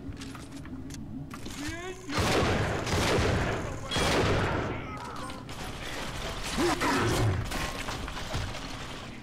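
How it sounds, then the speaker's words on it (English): Bursts of machine gun fire in Bioshock 2, loud clattering volleys that come in several long runs between short pauses, mixed with mechanical clicks and game noise. "Machine gun."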